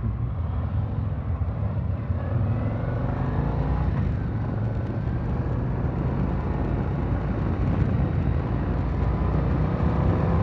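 A 2023 Harley-Davidson CVO Street Glide motorcycle cruising on the road, giving a steady, loud engine drone mixed with wind rush that holds constant throughout, heard close from the rider's position with no talking.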